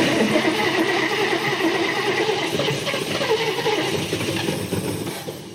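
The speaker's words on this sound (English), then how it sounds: "We're about to get this fired up again, see if we can get it idling" An old car engine, running for the first time in 43 years, rumbles steadily and roughly at idle, dense and close, with a slight wavering in its note and no voices.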